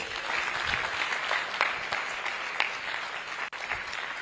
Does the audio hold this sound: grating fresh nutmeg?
no